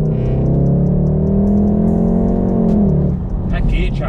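Volkswagen Golf R accelerates hard, a loud close engine drone climbing in pitch inside the cabin until a sharp gear change drops the revs, with a brief pop as the shift lands.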